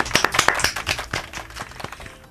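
Studio audience applauding in tribute to a late singer on a music show, a loose spatter of individual claps with distinct sharp hits early that thin out and fade over a couple of seconds.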